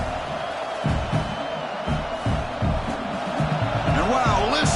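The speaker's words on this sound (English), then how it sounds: "listen to this crowd noise. This stadium is vibrating" A packed stadium crowd at a college football game between Tennessee and Oklahoma roars in a continuous, dense wall of cheering, with surging swells and a few higher whoops near the end.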